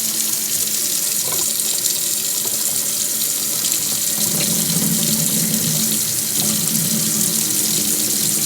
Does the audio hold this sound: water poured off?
yes